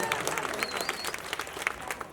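A crowd at a birthday celebration event applauds steadily, with dense, continuous clapping throughout and no voices rising above it.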